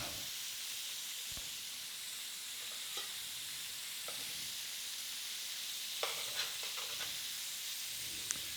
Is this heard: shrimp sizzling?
yes